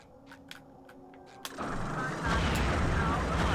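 Cannon fire from the Flying Dutchman's ship in SpongeBob Battle for Bikini Bottom video game: a few sharp pops early, then a sudden loud blast swelling into sustained roaring booms, with a voice talking briefly near the start.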